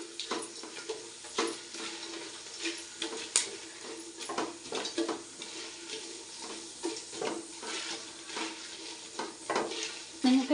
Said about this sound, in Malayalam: ഇത്രയും കൂടെ ചേർത്തിട്ട് നമുക്കൊന്ന് ഇളക്കി കൊടുക്കാം.